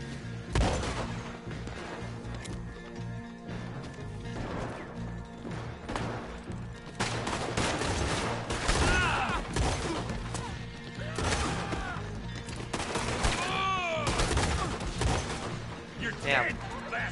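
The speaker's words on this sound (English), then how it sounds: "Okay, shotgun." Shotgun blasts and scattered gunfire in Red Dead Online, with repeated loud bursts across the stretch, busy game sounds and a player talking over the action.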